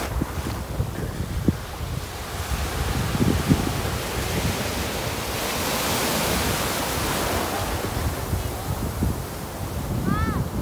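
Steady roar of ocean surf at a cold northern beach, constant wash of breaking waves mixed with wind buffeting the microphone, and a brief squeal near the end.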